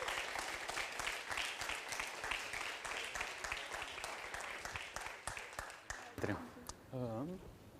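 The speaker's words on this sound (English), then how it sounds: "I think we can do a round of applause to all the organizers here who made that possible." A crowd at an energy conference applauds with dense, steady clapping that holds for several seconds, then thins out as a speaker's voice comes in at the end.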